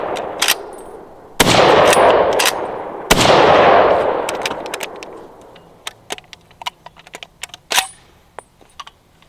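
Two loud, booming Remington 760 GameMaster rifle shots about two seconds apart, each with a long decaying echo, followed by scattered metallic clicks and clanks from the action.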